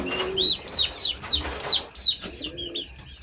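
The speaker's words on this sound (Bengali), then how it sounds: "এই যে দেখেন টাইগার মুরগি আর ফার্মি মুরগি, মিশরীয় ফার্মি।" Chickens on a poultry farm, alongside Khaki Campbell ducks, call in a close run of repeated clucks and short squawks, rising and falling in bursts with nearby bird chirps and no talking.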